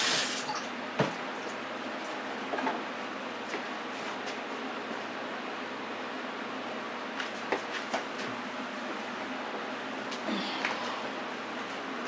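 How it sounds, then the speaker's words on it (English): Tap water running steadily into a sink while hands are washed, a soft continuous splash with a few brief clatters, fairly quiet and without talk. "Wash my hands."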